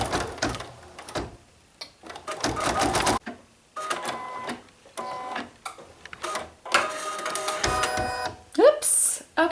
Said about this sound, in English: I'm just going to hit the button and it's going to do a little zigzag stitch for me.